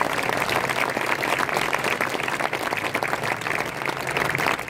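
A charismatic church congregation claps loudly and continuously, a dense, even wash of applause filling the hall without a break.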